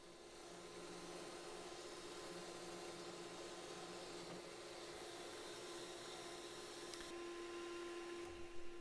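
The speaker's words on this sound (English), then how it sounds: "I'm also just holding the shop vac close to the hole so that most of the debris is sucked away." A shop vacuum held close to holes being cut into cabinet workpieces, giving off a steady, moderately quiet motor whine and airflow that runs unbroken through the whole stretch.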